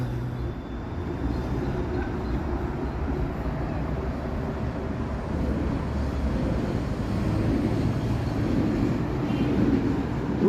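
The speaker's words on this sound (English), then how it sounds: "GO train, I think, just went by." A GO commuter train passes near King Street in Toronto, a steady low rumble and roar that swells gradually over several seconds with no talk over it.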